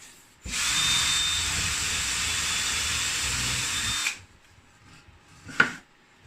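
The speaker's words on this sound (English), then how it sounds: "the drill I'm using is 4 millimeters" A power drill with a 4 mm bit bores a pilot hole into wood for a mining rig frame, a loud steady whir lasting several seconds, then stopping abruptly, followed by a short knock of handling.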